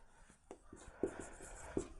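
Marker or chalk scratching out short strokes on a board during a maths lecture, a few quiet taps and scrapes in an irregular rhythm with no talking.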